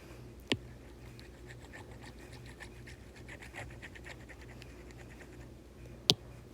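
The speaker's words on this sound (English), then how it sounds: "So I'm going to erase everything else real quick." Someone erasing writing from a board: soft, repeated scrubbing strokes in a quiet room, framed by two sharp taps near the start and end.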